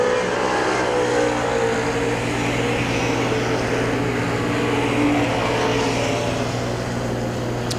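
Race cars circle Hagerstown Speedway with a dense, continuous engine drone and several overlapping exhaust tones, loud and steady across the whole stretch with no talking.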